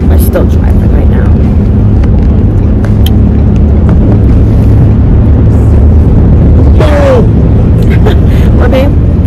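A steady, loud road rumble fills a car cabin on a long highway drive through North Carolina toward South Carolina, with a few faint, brief sounds over the constant drone.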